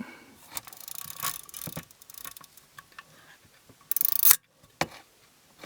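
Small mechanical clicks and ratcheting fiddling, then a sharp snap and rasping burst as the latch releases and the hinged back of a film camera with a cloth shutter opens, close up.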